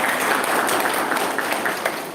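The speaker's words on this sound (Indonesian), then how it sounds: "Kita berikan tepuk tangan untuk teman-teman dari Oku Timur." Audience applause at the opening ceremony of a 2021 SPP-TIK technical training event, a steady, dense wash of clapping filling the room throughout, with faint voices mixed underneath.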